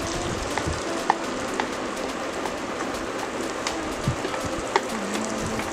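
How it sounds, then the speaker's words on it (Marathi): Vegetables sautéing in butter in a pan on full gas for cheese Maggi noodles, a steady close sizzle with scattered spoon taps and scrapes, and no talking. "आणि आता फुल गॅसवर हे परतवून घ्यायचे आहेत आपल्याला"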